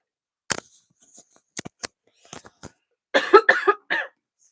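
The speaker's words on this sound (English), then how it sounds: "I start coughing really bad." A person coughs in harsh, scattered bursts, with short isolated coughs early on and a heavier cluster of rough, hacking coughs near the end, close to the microphone in a quiet room.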